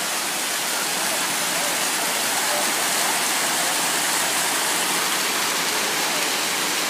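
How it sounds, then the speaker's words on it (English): A steady, dense roar of falling water from waterfalls in the Smoky Mountains, loud and continuous with no breaks. "Here you can see these awesome waterfalls."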